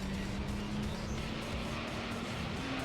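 Gran Turismo 3 LMP Dragon race car fitted with a sport exhaust, holding a constant buzzing engine drone at steady pitch, loud and unbroken throughout, with no voices.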